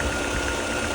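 A car engine runs during an engine flush and cleaning service, a close, steady idle with a rough, knocking rattle and no voices.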